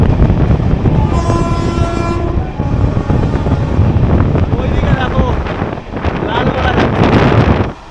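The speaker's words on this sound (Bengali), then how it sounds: "ট্রেন কিন্তু ফ্ল্যাট 110-এ টানছে।" Humsafar Express 13115 running at a steady high speed on the Sealdah–Jalpaiguri line near Barrackpore, a loud continuous rumble and rattle of the carriages with wind noise and a brief horn-like tone early on.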